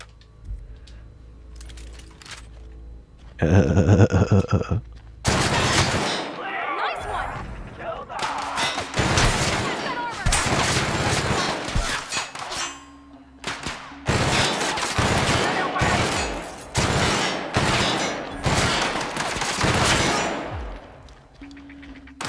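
Gunfire in the video game The Outer Worlds: repeated loud bursts of shots and rapid fusillades with heavy impacts, broken by short pauses, dense and close across the whole stretch.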